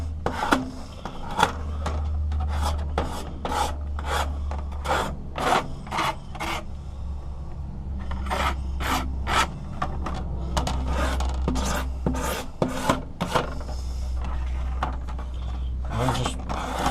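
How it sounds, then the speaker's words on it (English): Hand scraping of dirt and mold from boat portlight screens, a steady series of short rasping strokes that repeat close up over a constant low background hum. "I'm just scraping all the dirt and mold and everything else I can get off of here off"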